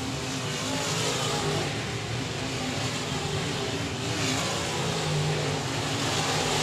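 IMCA modified race cars roar around Texarkana 67 Speedway in a dense, continuous wall of engine noise, with several cars revving together and no talking over them.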